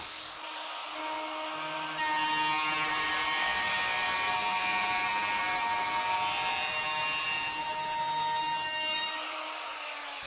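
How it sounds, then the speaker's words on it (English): A Makita RD1101 D-handle router cuts wood in a steady, high-pitched whine that holds for several seconds at close range, then spins down, with no one speaking. "this is the first 10 inches of cutting of the many, many, many miles of cutting this router's bound to do"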